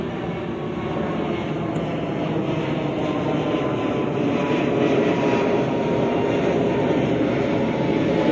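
A loud, steady roar of an airplane flying over Manila Bay, a broad continuous rumble that holds constant throughout with no talk over it.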